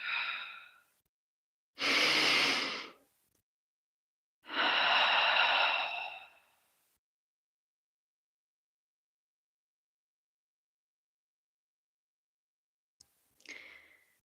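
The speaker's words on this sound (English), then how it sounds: "And take as much recovery breaths as you need." Two deep, long recovery breaths, each a drawn-out exhale of about two seconds, taken slowly in a quiet room and then followed by a long silence, with one faint breath near the end.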